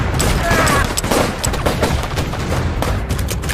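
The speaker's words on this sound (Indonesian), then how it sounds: "Terjadilah baku tembak" Rapid bursts of gunfire crackle through a film shootout, dense overlapping shots and booms filling the scene with a steady, loud barrage.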